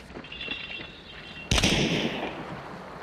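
Video game gunfire cracks out in a sudden loud burst midway, followed by a sustained noisy wash, with faint quick shots before it.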